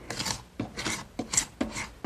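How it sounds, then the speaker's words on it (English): Ordinary paint scraper rasping dried squeezed-out glue off a glued-up oak panel, four quick gritty strokes in a steady rhythm, close and crisp. "The first thing I want to do to this piece is scrape off the excess glue that's squeezed out"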